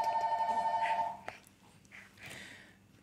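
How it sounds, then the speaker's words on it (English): A home telephone rings with a steady warbling electronic tone for about a second, then stops; faint background noises follow, with a soft clatter and muffled sounds that could be a baby fussing. "My phone's ringing"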